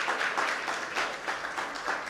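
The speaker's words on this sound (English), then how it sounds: "So give yourselves a round of applause." Audience at a Black Women's Equal Pay Day event at the Columbus Chamber of Commerce applauds themselves, a faint, distant patter of many hands clapping in uneven surges, no voices over it.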